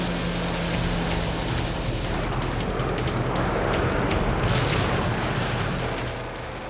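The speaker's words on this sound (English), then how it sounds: "for 75 days the island is pummeled with a massive bombardment." Heavy wartime bombardment of a Pacific island sounds as a dense, continuous barrage of rolling explosions and crackling gunfire, loud and unbroken throughout.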